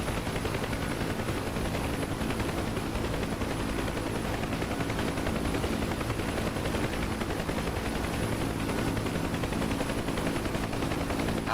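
Machine-gun fire from the M16E guns of a UH-1 Huey helicopter in DCS sounds as a continuous dense rattle over a steady rotor and engine roar, loud and unbroken throughout.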